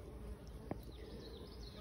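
Honey bees at a hive give off a soft, continuous buzzing hum, faint and steady for a couple of seconds with one brief louder tap partway through.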